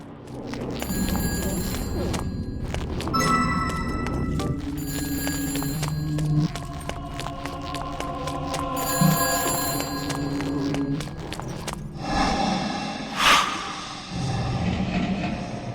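A telephone rings in the Shadows of the Damned video game, with repeated bright ringing bursts over a layered game soundscape.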